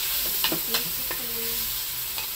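Garlic sautéing in a pan for pork sinigang soup: a continuous close sizzle with a few sharp scraping stirs of the utensil, no talk.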